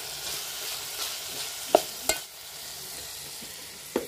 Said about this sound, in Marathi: फोडणीच्या मिश्रणात आपण मिक्स केलाय गोडा मसाला।